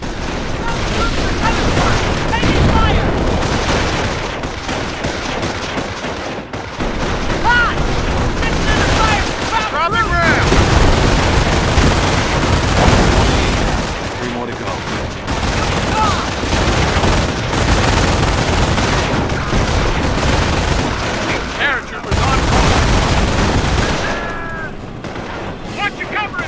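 Heavy battlefield gunfire in the WWII strategy game Company of Heroes: continuous dense rifle and machine-gun volleys mixed with booming blasts, loud and chaotic throughout, with shouted voices in the mix.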